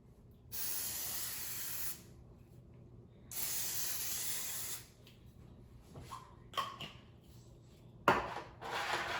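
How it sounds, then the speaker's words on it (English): Two long bursts of cooking spray hiss onto cake pans, each lasting over a second, followed by light clinks and handling of the metal pans. "Now we need to spray the pans."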